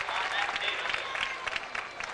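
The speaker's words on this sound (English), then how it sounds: "Hear the applause in the background." Crowd applause from spectators at a 1996 college track and field meet between WSU and Oregon, a soft, distant patter of clapping running continuously beneath an announcer's voice.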